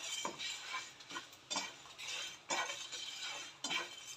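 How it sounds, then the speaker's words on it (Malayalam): Cumin, cinnamon and cloves dry roasting for a chicken curry, stirred in a pan with repeated scraping strokes and light clinks roughly every second, close and clear with no talking. "ഇതൊന്ന് നമുക്ക് നന്നായിട്ടൊന്ന് വറുത്തെടുക്കാം."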